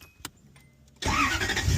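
A Toyota 1UZ V8 swapped into a Nissan S13 drift car with individual throttle bodies, running rich at idle: near silence, then an engine abruptly roars in loud and steady close by from about one second on.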